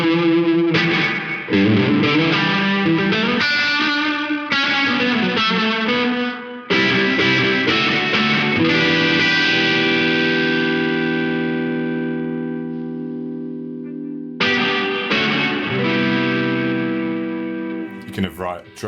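Electric guitar with a reverb followed by a Safari Pedals Dirty Dog overdrive, with gritty chords and picked notes, a long ringing chord that slowly decays, then a fresh strum, loud and close.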